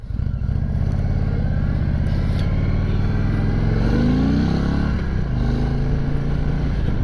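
An Indian Sport Chief motorcycle with inverted forks and taller Fox shocks runs steadily on a test ride, its engine a loud, continuous rumble that rises in pitch through acceleration and then settles, with wind noise and no talking.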